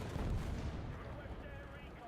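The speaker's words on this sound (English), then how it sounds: "The 122mm cannon sounds fantastic." A 122mm tank cannon fires in an online tank combat game, heard as one heavy, booming blast at the start whose rumble fades gradually over the next two seconds, fairly quiet overall.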